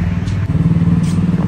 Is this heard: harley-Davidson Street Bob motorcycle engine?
yes